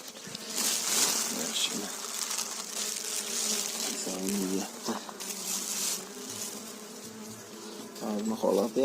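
Honeybees at an open beehive buzz loudly and steadily up close as the keeper works the hive with smoke, with a few brief voice sounds mixed in.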